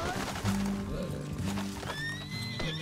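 A mare in the video game Red Dead Redemption 2 gives a loud, close whinny over steady hoofbeats as the horse runs, with game sounds layered around it.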